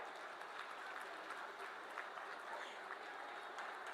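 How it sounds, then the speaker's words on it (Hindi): Applause from a large crowd at a public government event where laptops are being handed out, a continuous, fairly faint wash of clapping heard from a distance. "तालियों का संगीत चलता रहे।"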